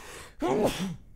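A single sneeze close up: a brief sharp intake followed by a quick voiced burst that trails off.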